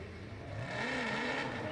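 A BMW F22 drift car's engine revs at a drift event, a low growl that swells into a louder, higher rising rev and holds steady, heard at moderate distance.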